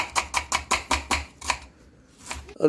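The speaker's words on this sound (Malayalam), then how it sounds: "സവാള നന്നായി ചെറുതാക്കി അരിയാണ്" Onion chopped finely with a knife for Kochi-style beef rice: about seven quick, evenly spaced blade strikes on a board, a short pause, then one more chop, close and crisp with no talking.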